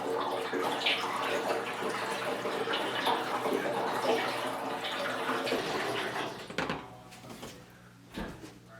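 Water running steadily into a Maxant 16 gallon bottling tank, a dense continuous rush that thins and stops near the end, followed by a few faint knocks.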